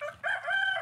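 A rooster among backyard laying hens crows in one short, strained burst, fairly faint and alone.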